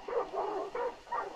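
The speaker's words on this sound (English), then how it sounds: "The dogs?" Dogs in the video game Hunt: Showdown give a short run of about four muffled barks, moderately faint and evenly spaced.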